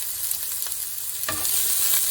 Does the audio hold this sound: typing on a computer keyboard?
no